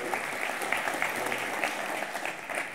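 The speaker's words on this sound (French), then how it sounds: "On l'applaudit." A conference audience claps steadily throughout, a moderate, even wash of hands with some individual claps standing out, with no speech over it.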